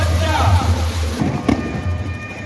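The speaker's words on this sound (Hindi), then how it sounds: "एक से बढ़कर एक इंद्रधनुषी बहुरंगी धमाकों का प्रदर्शन हुआ।" Multicoloured fireworks burst at a public display, a few muffled booms and crackles heard beneath a voice talking over them.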